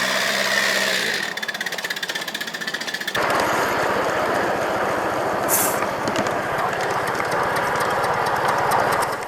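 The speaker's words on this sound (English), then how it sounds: "That's the steam brake on the engine at work." A steam locomotive's rapid mechanical chugging gives way to a loud, rough hissing rush of steam from its steam brake that carries on steadily, close and dense, with a brief sharp squeal.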